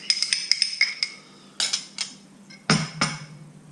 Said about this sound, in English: I'm going to add 2 eggs to it.